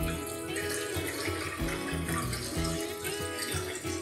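Tap water runs steadily into a bowl while wheat grains are rinsed by hand, a continuous splashing flow with irregular low thumps from the stirring.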